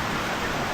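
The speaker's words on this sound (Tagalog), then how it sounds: "narinig yun naman, sobrang lakas ng ulan" Very heavy rain in Tagbilaran, Bohol during a storm, a dense steady hiss filling the brief moment with no break or other sound.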